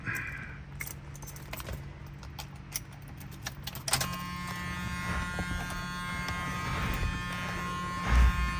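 Keys jangle in the ignition of a 1977 Cadillac Eldorado Biarritz, then a small power tilt and telescopic steering column motor starts a steady electric buzz, close and moderately loud.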